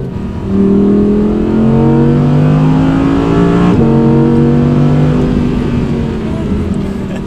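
Audi R8 V10 revving hard while driving on a cool day, engine note rising in pitch, dipping briefly at a shift, then climbing again, loud and close throughout.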